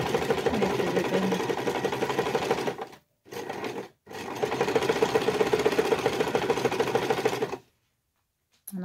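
Sewing machine stitching fabric for a laptop cover, a steady close whirring run broken by two brief pauses and a final stop near the end, with no talk.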